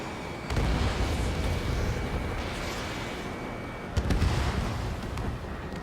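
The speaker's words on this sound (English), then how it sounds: "Missile launched." In Ace Combat 7, a missile launch roars out, followed by rumbling explosions and heavy booms. Two loud onsets stand over a continuous wash of blast noise, with no talk.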